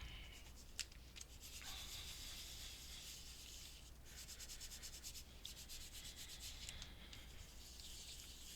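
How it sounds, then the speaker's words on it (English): A polymer clay pendant being burnished: a faint, continuous soft rubbing and scratching with rapid repetitive strokes, close but quiet under a low background hiss. "So I'm just going to give this a burnish"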